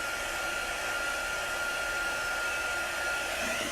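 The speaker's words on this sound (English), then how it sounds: "aim your heat tool, whether it's a hairdryer or your heat gun, away from your transfer" A hair dryer blows steadily at close range while drying a craft transfer, a continuous airy whoosh with a faint high whine, unbroken from start to finish.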